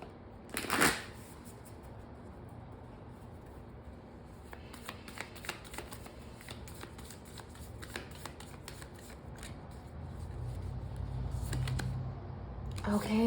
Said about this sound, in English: Have me cut the deck.